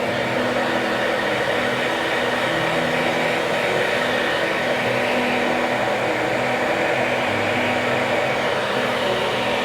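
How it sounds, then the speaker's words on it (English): A handheld blow dryer runs steadily and loudly up close for the whole stretch, a constant broadband whoosh with a motor hum underneath, used to dry zombie makeup on skin. "Again, we're going to dry a little bit with a blow dryer."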